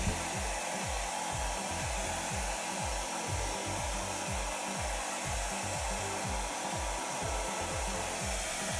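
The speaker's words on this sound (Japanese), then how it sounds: "シワが早く伸びないかなと、なんとなくドライヤーを当ててみました。" A hair dryer blows steadily on a custom-order seat cover fitted to a RECARO Ergomed D seat inside a Toyota HiAce, giving a loud, continuous close-up whir with a faint low pulsing throughout and no talking.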